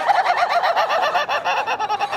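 A rooster crows in a steady, loud run of harsh, pulsing calls, heard alone with no talk over it.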